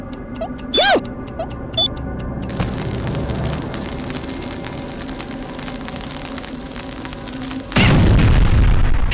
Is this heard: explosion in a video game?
yes